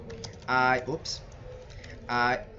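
Bursts of typing on a computer keyboard in two clusters of rapid clicks, close and fairly loud, with quiet room noise between.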